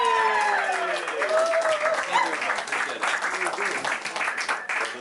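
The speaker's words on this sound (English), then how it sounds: "One more round of applause." An audience at a live music show applauds in a dense, sustained burst of clapping that gradually fades, with a voice briefly audible over it.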